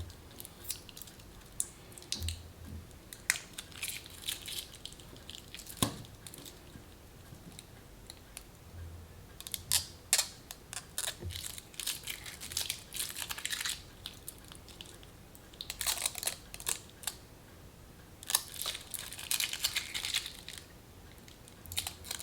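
Links being removed from a Garmin 26mm titanium watch bracelet in carbon grey DLC, giving close, faint metallic clicks, snips and scraping taps scattered irregularly, with no talk.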